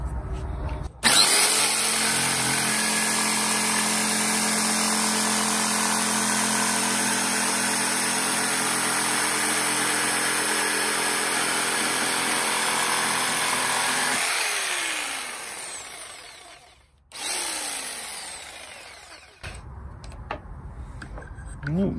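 A DCA AMQ65 electric jigsaw cutting wood at maximum speed without a starter cut, a loud continuous buzzing whine for about fourteen seconds that then slows, stops, and briefly restarts with short bursts.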